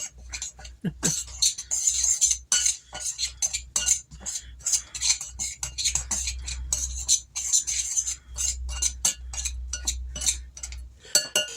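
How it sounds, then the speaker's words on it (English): A metal peeler stirs and scrapes through a flour and panko mixture in a bowl, giving repeated clinks and scrapes in an irregular rhythm, close and clear with no talk. "I'm using my peeler to mix up my flour mixture."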